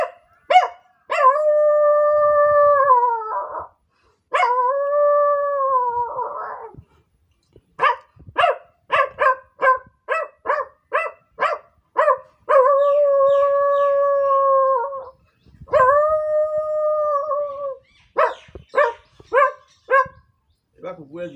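A man imitates a dog barking and howling at people, alternating drawn-out wavering howls with bursts of sharp, rapid yaps and barks, loud and close with no other sounds.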